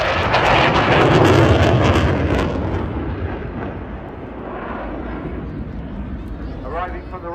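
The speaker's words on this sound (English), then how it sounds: "It gives me great pleasure to introduce to you the 2026 Royal Air Force Typhoon display." An RAF Typhoon fighter jet roars past at a Blackpool airshow, a loud broad engine rush that peaks early and slowly fades to a distant rumble, with an announcer talking over it.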